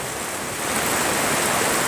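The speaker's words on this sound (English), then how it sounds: "all you can see is this heavy rain" Heavy rain pours onto a Washington D.C. street as a dense, unbroken roar that stays loud and even throughout, with no voices.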